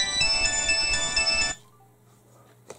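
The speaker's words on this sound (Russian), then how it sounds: "Татьяна Капустина звонит" A telephone rings with an incoming call, a loud electronic ringtone with a repeating pulsed pattern that cuts off abruptly, leaving quiet room tone and a faint click.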